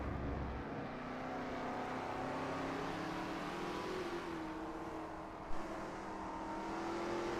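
Lola T70 MkII Spyder race cars in a racing game at Spa, engines revving and shifting as the pack battles for position, a steady roar rising and falling, with no speech.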